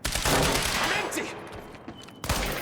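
Sustained gunfire from the video game Quantum Break, a dense, loud barrage of shots in an industrial area that thins briefly before a sharp burst returns near the end.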